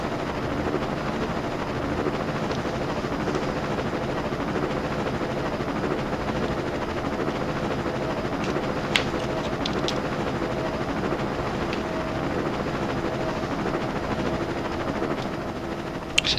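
Helicopter flying over a Tokyo city skyline in Minecraft gives a constant whirring rotor drone, steady and moderately loud throughout, with a few faint clicks near the end.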